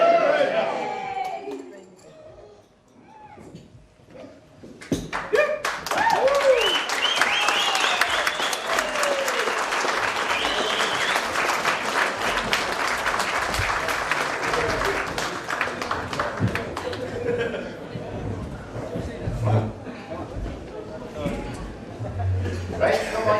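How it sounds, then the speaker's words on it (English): Wedding guests break into loud, sustained applause after a toast to the bride and groom, with cheering and voices mixed into the clapping over most of the span. "Big round of applause."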